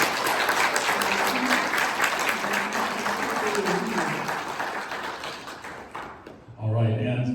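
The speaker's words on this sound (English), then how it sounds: "Let's have a big round of applause for Ellen." Audience applause fills a video game convention hall, loud, dense and sustained for about six seconds before fading into a brief lull, with some talk mixed in underneath.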